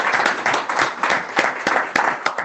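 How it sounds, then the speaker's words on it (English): A public school board meeting audience breaks into applause, steady dense clapping from a room full of people with a few sharper claps standing out, with no talking over it. "Let's give Mr. Hodge a big round of applause for that."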